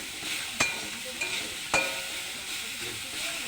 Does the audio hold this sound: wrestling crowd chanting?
no